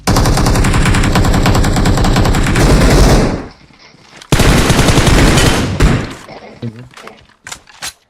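Rapid automatic gunfire in a multiplayer video game as a downed player is shot, with two long dense bursts, a short pause between them, then scattered sharper cracks near the end.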